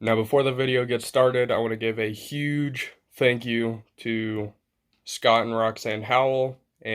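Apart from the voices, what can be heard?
No everyday noises stand out.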